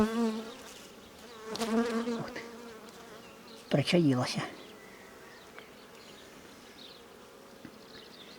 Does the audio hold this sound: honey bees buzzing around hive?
yes